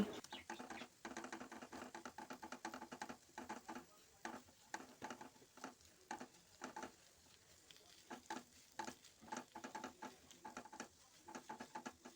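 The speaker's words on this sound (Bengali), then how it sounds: "একটু নেড়ে নিয়ে ভালো করে এই আলুটা এবং এইগুলোর সাথে ভালো করে একসাথে মিশিয়ে দেবো" Egg and potato being stirred together in a wok for egg chowmein, with faint sizzling and a rapid series of scraping spatula strokes close by.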